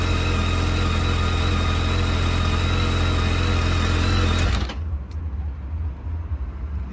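A 2007 BMW K1200 GT motorcycle engine idles with a loud, steady, close-up rumble, then cuts off abruptly, leaving near silence.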